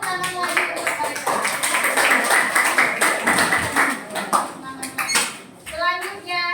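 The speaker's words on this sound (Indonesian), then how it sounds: "Ayo, kita kasih tepuk tangan lagi untuk mereka." Classroom applause for students who finished presenting their group discussion on time, a burst of clapping with children's voices and chatter mixed in throughout, easing off near the end.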